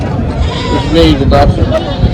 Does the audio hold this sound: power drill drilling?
no